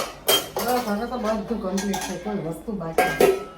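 Metal pots, dishes and cutlery from the morning being handled in a home kitchen, with close clinks and clatters in quick bursts and ringing tones between them.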